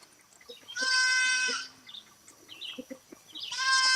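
A baby goat on a homestead gives two loud, wavering bleats separated by a pause, with soft chirps and clucks of farm birds and chickens in between.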